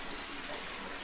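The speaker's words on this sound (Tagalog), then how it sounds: "Napakalinis ng tubig." Clear spring water flows in a steady, even rush, close by and constant through the short stretch, with no one talking.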